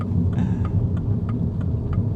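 A 2026 MINI John Cooper Works with a single exhaust, 228 horsepower, gives a steady low engine hum and throb from inside the car, a continuous rumble with faint clicks on top.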